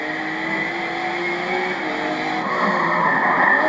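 Race cars in Forza Motorsport 7 roar loudly with revving engines and squealing skidding tires, a dense continuous burst of motorsport noise with no talk.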